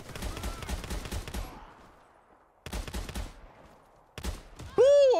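Gunfire in the Warface video game on Xbox Series X: rapid automatic bursts in three separate volleys with short silences between, ending in a ringing electronic tone.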